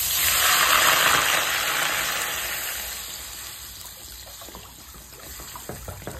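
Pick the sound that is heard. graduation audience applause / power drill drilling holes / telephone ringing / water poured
water poured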